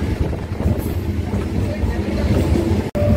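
A passenger train running, heard from inside the carriage: a steady low rumble with rhythmic rattling, dropping out for a moment near the end.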